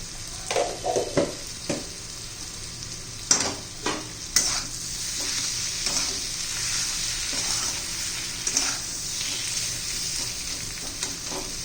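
Capsicum sabzi with coarsely crushed peanuts is stirred in a pan, a spoon scraping in irregular strokes over a steady soft sizzle, with several sharper clinks against the metal.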